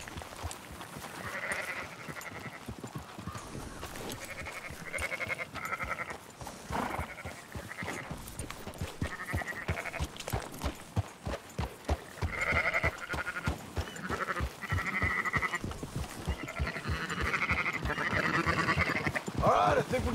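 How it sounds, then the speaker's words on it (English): A flock of sheep in the Western video game Red Dead Redemption 2 bleats repeatedly over twenty seconds, overlapping calls near and far amid constant clip-clop and ambient noise. "Marston, why don't you leave the sheep to me?"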